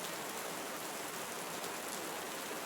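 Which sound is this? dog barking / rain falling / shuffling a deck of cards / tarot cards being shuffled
rain falling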